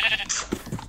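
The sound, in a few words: sheep bleating in video game Minecraft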